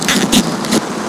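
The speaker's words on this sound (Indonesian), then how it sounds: "Nah ini akhirnya hujan juga ya." Rain striking the fly of a Dhaulagiri Terra Pro 4 tent, heard up close: a loud, dense patter with a few heavier bursts of drumming on the fabric.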